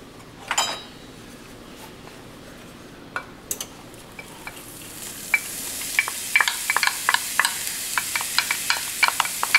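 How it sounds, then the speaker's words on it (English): Vegetables sauté in hot oil, a soft sizzle building after a few early clatters, with a spatula scraping and tapping the pan in quick irregular strokes, close and alone. "Now that the oil is hot enough, we're going to add our vegetables in order to saute the stuff."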